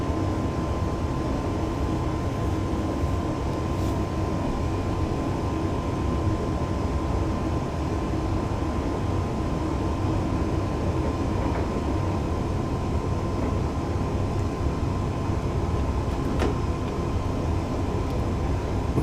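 An APT tilting passenger train in Train Simulator 2018 on the Preston to Carlisle route gains speed toward 60 mph, giving a steady, continuous rumble with a faint tonal hum and no talk.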